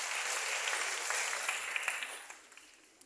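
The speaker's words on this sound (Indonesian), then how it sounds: "Tepuk tangan sekali lagi." Applause from an audience at a youth forum, a steady broadband patter of many hands that holds for about three seconds and then fades at the end, with no speech over it.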